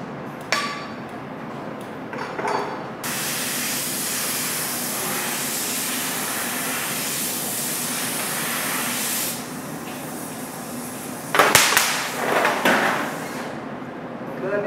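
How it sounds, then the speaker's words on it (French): Water splashed onto the base of a glass piece at about 600 degrees gives a sustained broadband hiss that lasts several seconds. Sharper spurts and crackles follow near the end. "je vais mettre un petit peu d'eau sur la base de la pièce, ça va créer un choc thermique"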